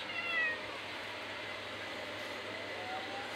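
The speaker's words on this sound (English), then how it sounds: "Evie, she's still meowing, but she can't really break out or anything." A cat meowing inside a carrier: one short, faint meow near the start, then a steady low hum of the surroundings with no further calls.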